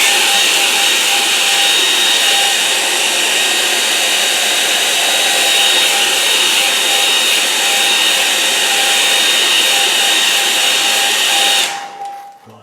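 A hair dryer blows steadily on a watercolour painting, a loud, continuous whirring roar with a constant high whine that runs unbroken for about twelve seconds before cutting off abruptly.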